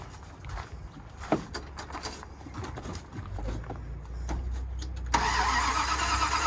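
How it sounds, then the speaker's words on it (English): A car with a faulty starter and a weak battery cranks with a quick irregular chatter for several seconds, then the engine catches and settles into a steady, louder idle close by. "starter's acting up in this thing"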